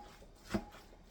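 A single knife chop through cooked ground beef on a cutting board, one soft thud near the middle of an otherwise quiet stretch.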